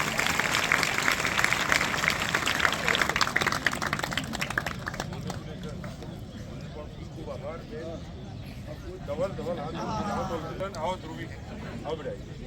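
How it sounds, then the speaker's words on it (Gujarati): A crowd applauds at a school farewell ceremony with brisk, loud clapping for about five seconds, which then thins out and gives way to a speaker on a microphone. "ફરીથી એક વખત તાળીઓનો ગળગળાટ થઈ જાય"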